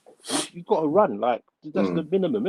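A single sharp, close sneeze bursts out during a casual football podcast chat between friends, and a voice starts talking right after it.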